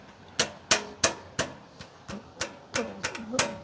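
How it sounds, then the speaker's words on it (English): A bolt tapped into place while assembling a Ninja 23, heard as about ten sharp, close metallic knocks at uneven intervals, with faint voice sounds between some hits. "Tapping."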